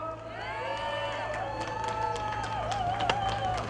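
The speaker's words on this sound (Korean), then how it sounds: "아낌없는 사랑의 박수를" Outdoor campaign rally crowd for Justice Party leader Sim Sang-jung at Bansong Market in Changwon, with steady crowd noise, scattered cheers and clapping, and a voice talking over it, continuous and fairly distant.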